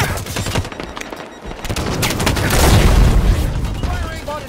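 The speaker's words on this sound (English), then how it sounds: "Firing on a target." Halo 5 Warzone combat brings dense gunfire with rapid shots and a rumbling boom swelling midway, loud and close, while a voice speaks over the battle.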